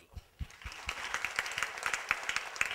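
An audience claps for a speaker at a stage program, starting with a few separate claps that quickly build into dense, steady applause.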